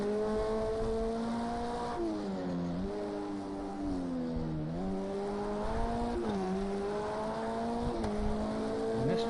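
Race car engine from an on-board cockpit view at Fuji circuit in an endurance racing video game, a steady loud high-pitched drone that rises and dips with gear changes and throttle, continuous throughout with no talking.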